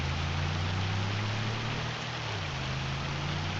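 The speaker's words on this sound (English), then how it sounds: "I kind of wish it would stop raining" Rain falls steadily on a farm, a constant even hiss of drops with a low engine-like hum underneath, unbroken throughout.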